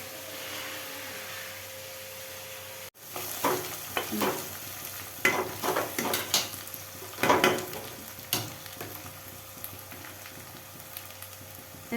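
Green chili and ginger-garlic paste frying in a pan, stirred vigorously: after a quiet hum, loud bursts of sizzling come in repeated waves with the scrape of a spoon against the pan, and no voices.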